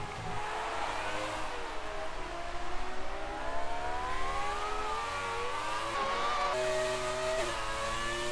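Racing car engines in the Speed Force racing video game, classic cars on a Canada circuit, with a sustained whining engine note that rises and falls through gear changes, steady and fairly loud with no talk.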